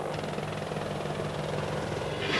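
An RAH-66 Comanche scout helicopter gives off a steady, fairly loud drone of rotor and engine that holds evenly throughout, with a slight swell at the end and no voices.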